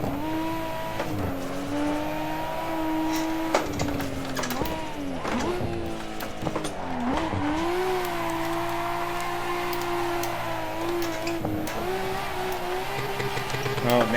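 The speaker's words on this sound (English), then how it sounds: "all-wheel drive drifting is a blast" An all-wheel drive car drifts in a VR driving simulator game, its engine droning and revving steadily with pitch rising and falling through slides, loud and continuous with brief tire squeals.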